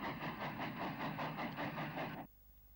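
A train, with a Class 28-type locomotive at its head, runs into the up bore of Patchway Tunnel at Cattybrook with a rhythmic rumbling clatter of wheels that cuts off abruptly, leaving a faint low hum.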